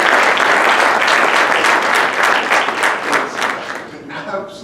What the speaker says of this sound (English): I feel she deserves a round of applause.